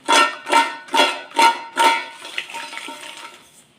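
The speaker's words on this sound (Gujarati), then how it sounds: "હવે આની અંદર આપણે જે મસાલો તૈયાર કર્યો છે ને એ છાંટી દેશું. એ બરાબર સ્પ્રિંકલ કરી દેવાનો છે. પછી આ રીતે એને હલાવી દેવાના છે." Crispy semolina bingo samosas sprinkled with masala are tossed in a bowl, giving five evenly spaced, loud rattling bursts followed by softer, scattered rustling as the tossing slows.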